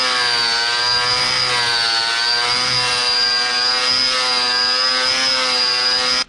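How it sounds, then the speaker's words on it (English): A belt sander works wood on a railing for an old log cabin. The motor holds a loud, steady, high whine with a strong buzzing tone, runs without a break, and cuts off at the very end. "It is said that the belt sander is the fastest way to remove"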